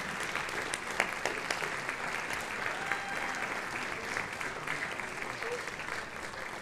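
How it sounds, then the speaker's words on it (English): Sustained applause from a school audience honoring seniors at a high school spring concert, dense steady clapping filling the room at moderate level with scattered crowd noise. "Let's give these seniors a round of applause"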